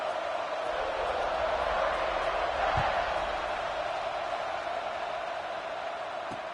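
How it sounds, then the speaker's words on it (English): A video game college football stadium crowd buzzes in a steady, even roar before a kickoff, with a faint murmur of voices and a couple of soft low thumps underneath. "this crowd is buzzing after that last score"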